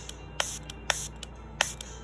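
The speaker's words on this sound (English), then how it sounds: "I'm going to take a bit of isopropyl spray, spray it on our" Isopropyl alcohol spray bottle pumped in a few short hissing bursts, close and fairly loud, with small clicks of the nozzle between sprays, while cleaning a Game Boy battery connector.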